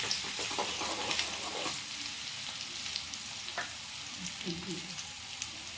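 Onion and garlic frying in a pan for an egg curry, a steady broadband sizzle with occasional stirring scrapes, fairly faint and continuous.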